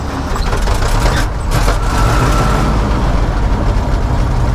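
The engine of a 1965 Chevrolet tow truck pulled from a junkyard, in worse condition than expected, fires up and keeps running in a loud, rough, heavy rumble with brief bursts as it catches.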